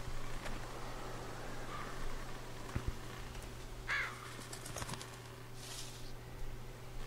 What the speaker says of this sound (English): Oh, ein Vogel.